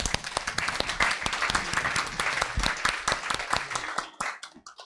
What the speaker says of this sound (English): please give a round of applause to our guest speaker